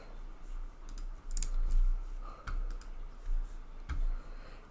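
A computer mouse clicking: a few sharp, separate clicks spaced irregularly over a low, quiet background hum.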